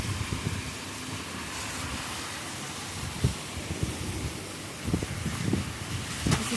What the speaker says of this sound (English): I don't know if you can hear the gusts of wind hitting my phone.